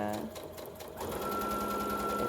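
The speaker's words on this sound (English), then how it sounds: "So you're going to do the same thing, pin, and then sew." A sewing machine stitches a sweater seam in a steady, continuous whir, close and loud, its speed picking up and holding after a brief softer start.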